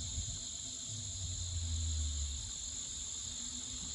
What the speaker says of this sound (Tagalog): Yung mga huni ng kuliglig. Napakasarap pakinggan.